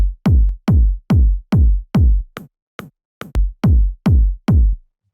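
A punchy house kick drum built from layered Argon Kick pack samples thumps about a dozen times in a steady pattern, with a few shorter, weaker hits mixed in. Each deep, booming hit is alone and loud.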